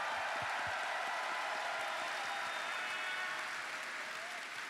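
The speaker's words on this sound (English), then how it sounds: "one more round of applause for the amazing sound team here" Sustained applause from a large audience at TennoCon, the Warframe convention, a thick even wash of clapping heard at a slight distance, tapering only slightly.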